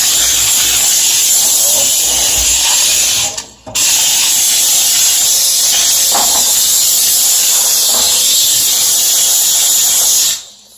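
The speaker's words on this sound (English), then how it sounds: "Since it's steam, you can get every nook and cranny" A HomeRight SteamMachine steam cleaner hisses loudly and continuously on a stained rim, cutting out briefly once before resuming and then stopping near the end.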